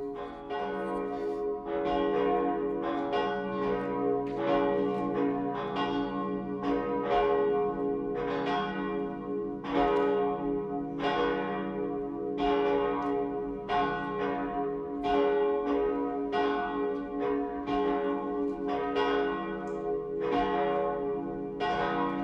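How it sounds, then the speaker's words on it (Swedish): Cathedral church bells ring in a steady, continuous peal of overlapping strikes, full and resonant, with no voices. "Låt oss nu lyssna till klockringningen."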